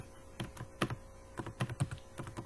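Keys clatter on a computer keyboard in a quick irregular burst of close, crisp clicks, with no voices over them.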